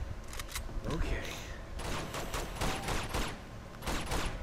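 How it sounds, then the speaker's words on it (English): Enemy blind-firing a gun in Uncharted 2: Among Thieves, quick rattling bursts of gunfire in separate volleys, fairly faint and mid-distance, with someone talking over them. "He's gonna keep blind firing me, really?"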